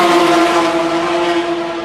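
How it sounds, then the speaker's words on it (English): LMP2 prototype race car passing on a circuit, a loud, steady high-pitched engine drone with a clear tonal whine that holds and slowly fades as it moves away. "You've got to wait for the LMP2 cars to come round."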